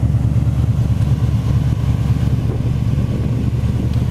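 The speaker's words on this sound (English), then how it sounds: "The motor sounds beautiful." A car's 302 V8 engine idles steadily, a loud, even low rumble with a fast regular exhaust pulse, heard close and alone with no voices.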